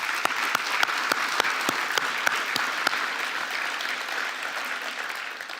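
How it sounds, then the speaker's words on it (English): Sustained applause from a conference audience after a speech on rebuilding Ukraine, steady dense clapping with a few sharper individual claps standing out near the front, fading slightly toward the end. "Round of applause again, please."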